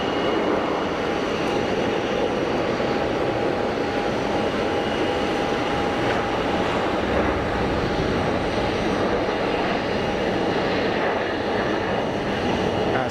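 An easyJet airliner's jet engines roar steadily at Geneva Airport, a loud, sustained broadband rumble with a thin high whine running underneath, continuous throughout and heard without any voices.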